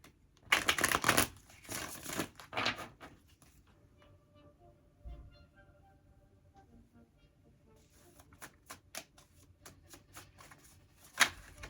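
Tarot cards shuffled in a quiet room for a Virgo reading, with a burst of loud riffling at the start, a lull, then lighter scattered flicks and taps of the cards before another shuffle near the end.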